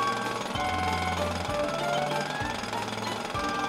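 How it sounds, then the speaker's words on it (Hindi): Digging under a bank in a GTA roleplay video game, heard as a loud, steady, jackhammer-like mechanical drilling that repeats in low pulses with sharp starts and stops, alone without talk. "क्या बैंक के नीचे से खोद के जाएगा क्या ऐसे?"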